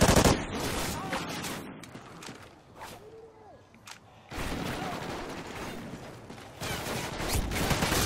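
Rapid bursts of gunfire from a three-shot burst rifle in Call of Duty Ghosts Domination on the Stonehaven map, loud and close, with a quieter stretch of mechanical clicks and footsteps before the firing resumes.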